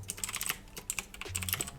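Quick, light typing on a computer keyboard while writing game code, with a steady patter of soft key clicks at close range and no talking.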